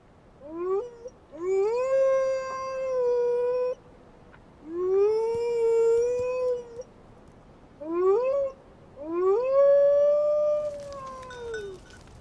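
A wolf howls in a series of long, rising and falling tonal calls, four drawn-out howls separated by short pauses, close and clear with no other voices present.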